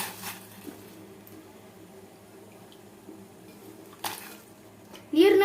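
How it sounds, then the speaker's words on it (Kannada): Potatoes for french fries dropped into a pot of boiling water: faint bubbling and kitchen clatter under a speaking voice, then a short clunk and a louder splash near the end. "ಇವಾಗ ಅದು ಕುದೀತಾ ಇದೆ. ಇವಾಗ ಪೊಟ್ಯಾಟೊ ಹಾಕೊಬೇಕೀಗ. ನೋಡಿ, ಹಾಕ್ತೀವಿ."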